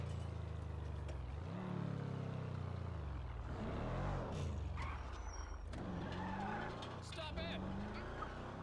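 A car engine revs and tires skid in a police video game, with rising and falling engine pitch and squealing tire slides, loud and close, while someone talks over it.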